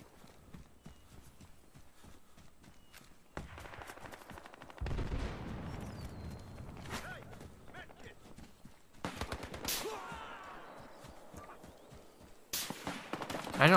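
Gunfire in the video game Battlefield Hardline, during a team deathmatch on the Riptide map: a long stretch of repeated gun bursts, with crisp single shots and denser volleys that rise and fall, ending in a loud burst.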